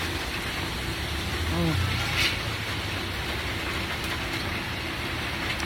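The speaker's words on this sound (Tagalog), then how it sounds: "Umulan. Yan o." Steady rain pours down around an outdoor kitchen beside a garage in Cubao, a constant dense hiss filling the scene throughout with no break.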